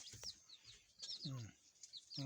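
Thin high peeping chirps repeat in short bursts, with a brief low clucking call in the middle, fairly faint and close.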